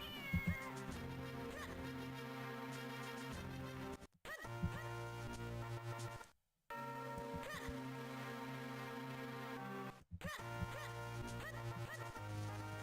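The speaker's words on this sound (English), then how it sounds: "Cat." A cat in The Legend of Zelda: The Minish Cap meows again and again in clear, tonal calls over game music, with short silent breaks between passages.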